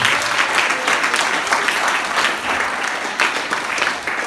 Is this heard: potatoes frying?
no